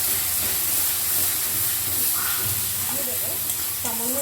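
Fish frying in a pan with turmeric and salt for a Bengali doi katla, a steady close sizzle and hiss with a few stirring scrapes and soft clatters near the end.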